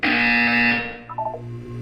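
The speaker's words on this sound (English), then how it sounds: "You will hear a buzzer." A loud, steady electronic buzzer tone from the Portal 2 video game sounds for about three-quarters of a second, then fades into a soft game hum with a few faint blips.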